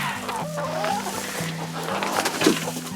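Several chickens cluck and murmur close by in a coop during sub-zero winter weather, soft repeated calls overlapping over a low steady hum.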